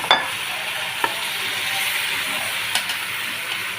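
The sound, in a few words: chicken and chopped vegetables cooking in oil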